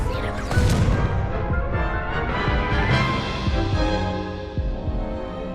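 A Confringo fire spell bursts in Hogwarts Legacy, a loud, dense blast with crackling, rumbling energy that sustains and slowly fades over several seconds, with no talk over it.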